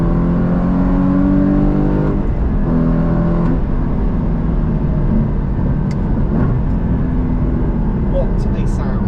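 Porsche GT4 engine revving hard under acceleration, a loud continuous snarl with rising and falling pitch through gear changes, with a voice talking over it.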